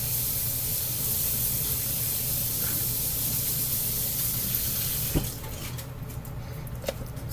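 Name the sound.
rinsing something under running water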